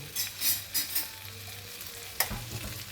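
Shrimp in coconut milk with chili flakes gets stirred in a hot pan, a few scraping strokes over a soft steady sizzle, close and fairly quiet.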